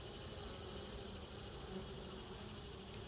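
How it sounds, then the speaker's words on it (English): Honeybees swarm around a lifted beehive frame, a dense, steady buzzing hum that stays constant and close, with no voices. "Let's scoot the bees away."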